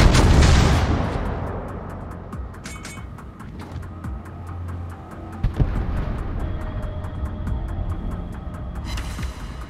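Naval guns of the battleship Tirpitz fire in World of Warships: a heavy boom opens the stretch and a second blast lands midway, over a constant low engine-like rumble with scattered sharp cracks.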